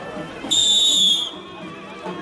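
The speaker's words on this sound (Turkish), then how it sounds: "Düdükle birlikte." A single sharp whistle blast lasting under a second starts a hot pepper eating contest, cutting through crowd chatter, loud and close.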